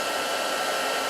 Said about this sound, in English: Bring in my heat tool